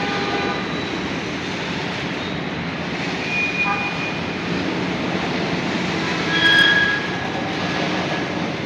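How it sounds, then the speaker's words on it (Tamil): A train arrives at Karaikal railway station, rumbling steadily nearby with a continuous low roar, faint high-pitched wheel squeals rising briefly over the noise. "அதனால வந்து நிக்க போகுது ட்ரெயின்."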